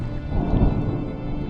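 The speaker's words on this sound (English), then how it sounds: "Was that thunder? Still distant." Distant thunder rolls in the video game Draugen, a low, muffled rumble that swells and fades over a second or so beneath faint rain-like hiss, with no voices.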